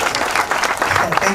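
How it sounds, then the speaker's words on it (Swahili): Audience applause at the grand opening of the Future Pillars Organization office, a dense burst of clapping running steadily for about a second and a half before cutting off abruptly. "Hebu nipigeni makofi."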